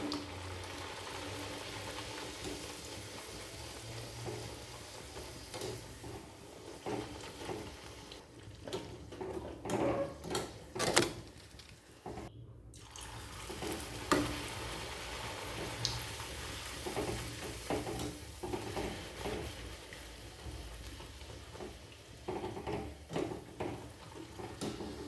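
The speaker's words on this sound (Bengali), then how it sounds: "এভাবে সব লুচিগুলো ভেজে নেব।" Luchi, puffed fried flatbread, frying in hot oil, a soft continuous bubbling sizzle with occasional clatters of a pan and utensils, fairly quiet and steady with no talking.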